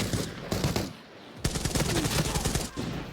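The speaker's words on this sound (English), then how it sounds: "so on to the sound of gunshots." Bursts of automatic gunfire in the video game Arena Breakout Infinite, loud rapid volleys with a short lull in the middle before a sharp shot resumes a dense stretch of firing.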